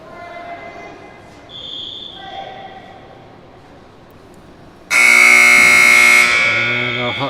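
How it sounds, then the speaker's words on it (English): At a goalball game in an indoor gym, low hall ambience runs for a few seconds before a loud, sustained electronic halftime buzzer blares abruptly and holds to the end. "Buzzer sounds as McDonald goes into the backswing"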